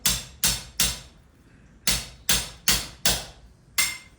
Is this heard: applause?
no